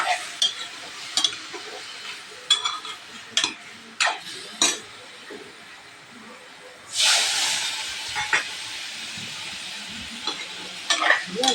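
Pork pieces being dry-fried in a wok with no oil, a steady sizzle and hiss with repeated scraping stirs that land as sharp bursts, swelling into a louder, denser sizzle halfway through.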